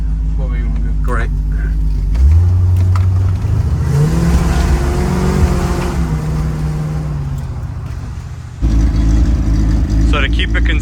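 A 1984 C4 Corvette with a modified exhaust revs up close and loud, its deep idling rumble swelling through several rising throttle blips before settling back to a steady growl.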